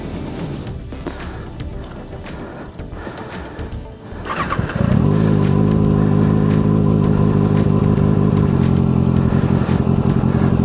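A white motorcycle starts up and pulls away, its engine rising from a quieter patch into a loud, steady, close drone that holds as the ride continues.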